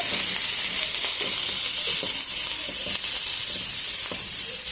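Onions fry in a pan for a tamarind chutney, giving a steady, close sizzle and hiss with faint stirring scrapes underneath.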